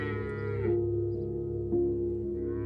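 A cow gives a long, low, sustained moo with a slight rise and fall in pitch, close and steady from start to finish.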